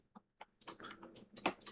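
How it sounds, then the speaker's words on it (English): Short bursts of keystrokes on a computer keyboard while a command is typed, a handful of separate taps and quick clusters, close and quiet, with one sharper clack near the end. "here you're going to type in"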